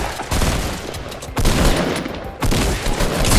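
Bursts of rapid gunfire in the video game Fortnite come in three waves, loud and close, with dense crackling volleys and booms in between.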